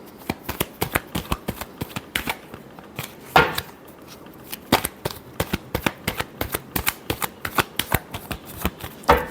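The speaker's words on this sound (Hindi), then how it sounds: "Large shuffle." A deck of tarot reading cards riffled and shuffled up close, in rapid crisp flapping bursts with brief pauses, loud and clear with no speech.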